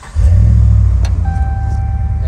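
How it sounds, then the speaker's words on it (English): Ram 1500 pickup engine cranking and catching, then settling into a steady low idle rumble, close and loud, with faint chimes from the cab. "And then now I'm gonna start the car."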